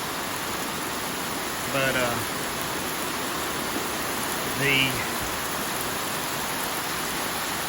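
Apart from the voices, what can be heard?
heavy rain downpour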